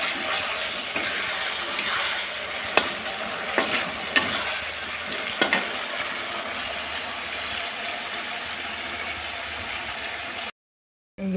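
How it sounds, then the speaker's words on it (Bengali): Eggplant slices frying in oil in a pan, a continuous crackling sizzle broken by a few sharp clinks and scrapes, with a brief dropout near the end. "এই যে আমি বেগুনগুলো ভেজে নিচ্ছি।"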